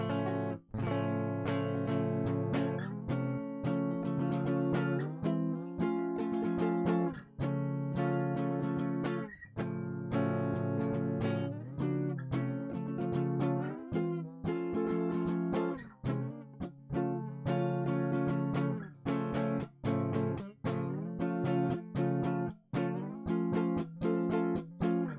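Rhythm guitar chords played on the bottom four strings, strummed steadily and close, with ringing harmonic chords and sharp repeated strokes running continuously for the whole stretch with no talking.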